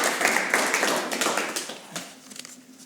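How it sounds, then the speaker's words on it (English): Audience applause at a live storytelling event, a short burst of clapping from a crowd that fades out over a few seconds. "Give him a clap, please,"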